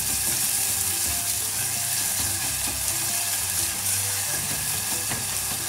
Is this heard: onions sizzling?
yes